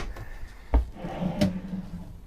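Deep storage drawer in an Opus OP15 off-road camper trailer sliding open with a wooden knock and a rolling rumble, two close, fairly loud thuds with a brief slide between, no voices.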